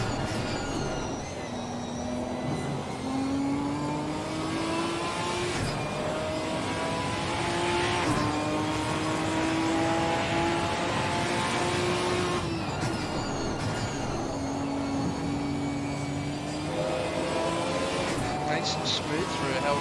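A GT4 race car in a racing video game at Mount Panorama climbs the mountain straight at full throttle, its engine steadily rising in pitch through repeated gear shifts over continuous commentary.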